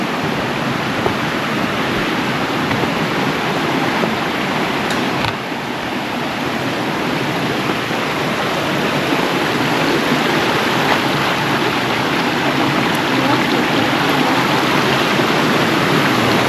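A stream of water flows near the Salto Cristal waterfall in a loud, steady broadband rush that persists throughout without pause or voices.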